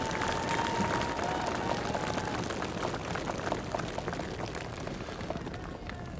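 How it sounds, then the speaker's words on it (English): Sustained applause from a large crowd at a Missouri gubernatorial inauguration, dense clapping continuing evenly without pause. "join me in giving them a big round of applause"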